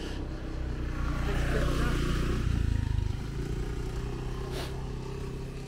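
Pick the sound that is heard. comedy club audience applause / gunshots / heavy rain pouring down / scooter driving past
scooter driving past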